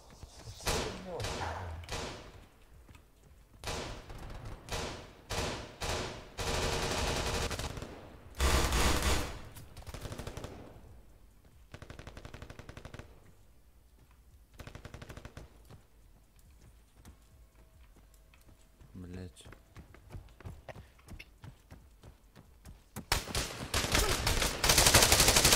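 Gunfire in the Arma 3 video game, with bursts and single shots cracking in loud clusters, some rapid and some spaced, across a busy stretch with people talking.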